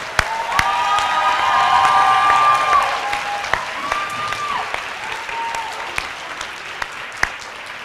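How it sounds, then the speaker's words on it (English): A crowd at a winter graduation ceremony for a GAP/CCP program at West 20th Street School claps loudly with whoops and cheers, the applause swelling early then thinning into scattered individual claps. "let's give them a first round of applause"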